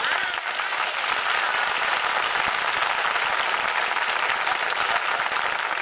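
Audience applause fills a radio comedy show, steady loud clapping from a studio crowd that carries on evenly for the whole stretch.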